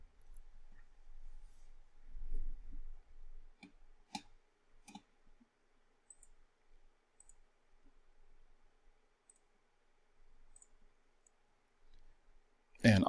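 A computer mouse gives a few sharp, isolated clicks in an otherwise quiet room, spaced seconds apart with faint rustling between them.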